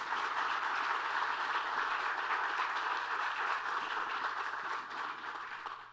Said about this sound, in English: Let's give the governor another big round of applause